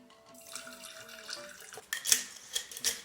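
Tap water runs into a sink to soak items during household cleaning, a steady splashing flow that grows louder and brighter toward the end, with no talking.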